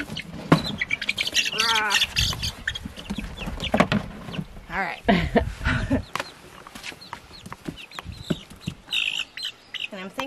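Young Buff Orpington chicken squawking and clucking in repeated bursts close by, mixed with people talking over it.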